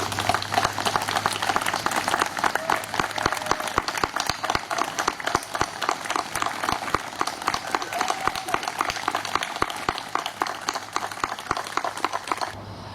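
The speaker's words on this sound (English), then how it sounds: "please stand as we give you a round of applause?" Crowd applauding veterans and active-duty military members at a Memorial Day event in Westminster, dense continuous clapping that holds steady across the whole stretch and fades slightly near the end.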